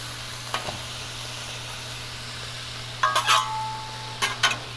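Steak meat sizzles in a pan while frying for a cheesesteak, a steady close hiss with a low hum beneath and a few short clinks of a utensil stirring near the end.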